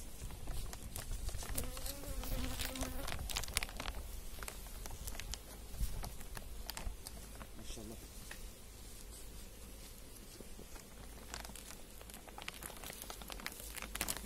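A soft, dense buzzing of many honey bees in a two-story hive just out of winter hums throughout, mixed with rustling and crinkling handling noises nearby.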